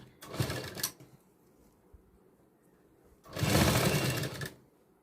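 Sewing machine stitching the seam of a size 44 princess cut blouse, running in two loud mechanical bursts of rapid needle chatter separated by a quiet pause.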